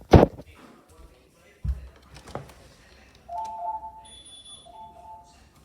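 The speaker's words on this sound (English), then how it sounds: "That's the other alarm." A Ring home alarm system chirps through its entry delay, a steady two-tone electronic beeping that repeats twice after a few sharp clicks and handling knocks, with a person speaking briefly nearby.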